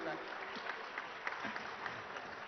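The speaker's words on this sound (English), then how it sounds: "a louder round of applause will be great" An audience at a live conference session claps in steady, moderately loud applause from a crowd, continuing throughout.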